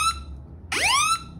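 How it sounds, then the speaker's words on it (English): A phone's emergency SOS alarm sounds, a loud, piercing electronic tone that sweeps upward, with a short chirp first, then a rising wail lasting about half a second before it stops. "it sets an alarm that goes off. It's going to sound like this."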